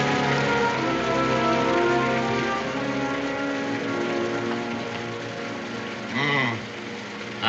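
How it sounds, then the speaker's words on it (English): Steady rain falls at night in a continuous hiss, with a brief tonal sweep rising over the patter near the end. "I would have preferred that it hadn't rained tonight."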